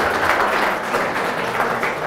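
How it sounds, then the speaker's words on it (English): Steady applause from a crowd greeting a volleyball player, a dense continuous patter of many hands clapping for about two seconds. "so I guess some applause are in order there"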